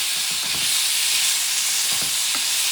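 Bison meat for a spicy stew sizzles in a hot pan, a close, dense hiss of frying with a few soft stirring knocks underneath.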